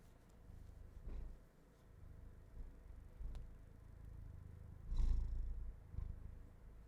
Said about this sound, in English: Maybe you can hear him purring.